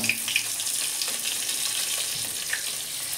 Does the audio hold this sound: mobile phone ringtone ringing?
no